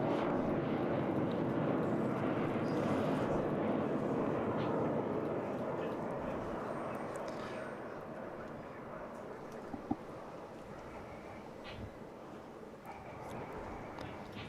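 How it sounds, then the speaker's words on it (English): A BAC Jet Provost jet trainer built at Warton in 1970 flies at the Eastbourne International Airshow, its broad engine roar loud at first and slowly fading as it moves away. "This aircraft, very much one of the last of this particular mark of jet provosts, built by BAC at Wharton in 1970."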